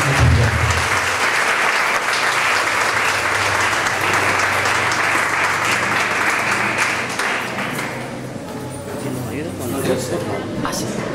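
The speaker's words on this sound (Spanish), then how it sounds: "Así que damos un aplauso al Señor y le recibimos." Sustained applause from a congregation at a church gathering in a house in Honduras, steady dense clapping throughout with a loud burst at the start, slightly thinning near the end.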